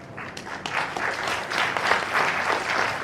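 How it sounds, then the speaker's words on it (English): An audience at a World Water Day ministry event breaks into a big round of applause, clapping swelling slightly and staying loud and continuous, no voices on top. "we're going to give the minister and team a big round of applause"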